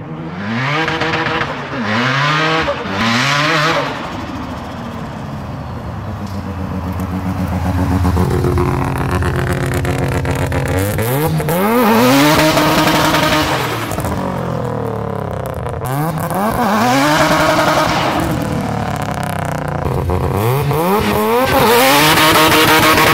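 A Rocket Bunny Mazda RX-7 with a turbocharged engine revs hard and loud, rising and falling in repeated pulls with sweeping pitch changes, heard outdoors as the car drives past.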